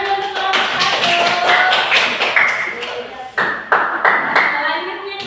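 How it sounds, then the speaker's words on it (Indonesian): A class claps hands for a student group after its presentation, sharp taps and claps ringing out irregularly at close range, with a few louder isolated claps near the end. "Oke, tepuk tangan untuk kelompok 1."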